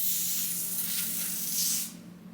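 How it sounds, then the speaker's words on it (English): Hairspray or similar product spritzed around the edges of a 30-inch, 150% density 360 lace wig, a steady close hiss lasting nearly two seconds before cutting off into a quiet room. "Just spraying it around the corners."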